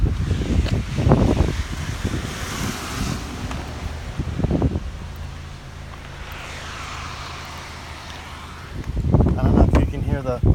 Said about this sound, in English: I don't know if you can hear the savage wind beating